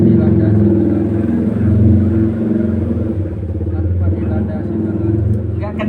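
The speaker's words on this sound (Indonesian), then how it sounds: "suaranya beneran itu motor" A motorcycle engine rumbles loudly and steadily nearby, with a low idling drone and clattering texture that holds for several seconds.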